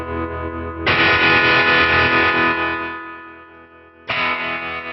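A heavily processed electric guitar chord rings out through a HeadRush Gigboard effect set by an expression pedal, thick and distorted, slowly fading before a second chord is struck near the end.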